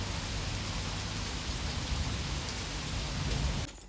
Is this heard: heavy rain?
yes